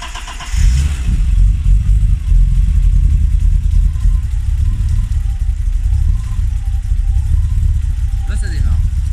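A BMW E30 fitted with a K-DATA programmable ECU starts and runs at a loud, rough, low idle close by, with voices talking over the engine throughout.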